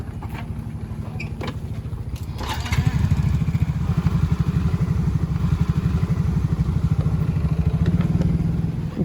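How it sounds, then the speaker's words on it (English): A group of about a dozen motorbikes sets off toward the mountains in the Indonesian foothills, engines puttering steadily and swelling louder after a few seconds, with a faint voice in the background. "Garvish's team of about a dozen men set out for the mountains on their motorbikes."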